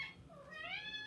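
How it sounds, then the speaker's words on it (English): A begging cat meows for food in a home kitchen, one drawn-out, rising meow with a softer start, quiet and close, alone without speech. "So after you address your begging cats"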